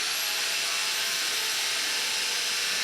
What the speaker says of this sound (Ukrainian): Давайте проверим, как работает дрель, с каким шумом.